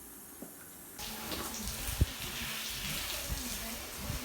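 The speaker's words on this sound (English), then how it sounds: "Here's one of our resident horses, Toby, getting a bath in the wash stall" Water gushes steadily from a hose or tap in a barn wash stall as a horse is bathed, splashing continuously after a brief quieter start, with a few soft knocks and thumps nearby.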